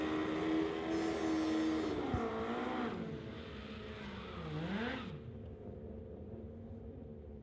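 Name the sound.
drag racing cars on the strip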